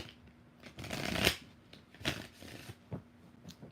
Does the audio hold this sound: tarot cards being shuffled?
yes